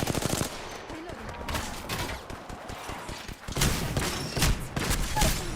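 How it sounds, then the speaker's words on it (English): Rapid bursts of automatic gunfire in a shooter video game, with dense repeated shots throughout, louder volleys near the end amid busy in-game sound. "Getting shot at."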